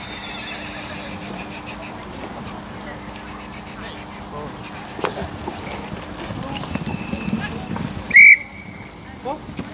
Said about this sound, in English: The whistle's gone, riders recall.